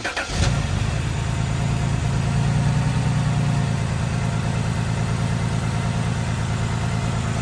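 BMW 128i with a 3.0L N52 engine, just back together after a valve cover replacement, cranks briefly and fires, then settles into a steady, even idle heard up close.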